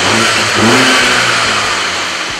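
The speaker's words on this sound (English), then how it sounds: "start it up if you put your foot fully down the clutch and just press the red button" A Mini car engine starts and revs hard, a loud, close, continuous roar that rises and holds with rough mechanical texture and no voices.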